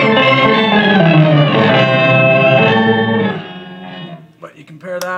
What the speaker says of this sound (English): here's the full-on organ deal with the lag taken out